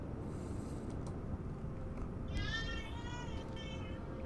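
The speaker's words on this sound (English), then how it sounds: "That is the sound of my baby girl crying." A baby girl cries in the background, a faint wavering wail rising around the middle, beneath a steady low hum and rumble of game noise.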